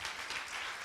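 A live audience at a comedy talk on the limits of humour bursts into dense, steady applause, a continuous wash of many hands clapping close and loud throughout the short moment.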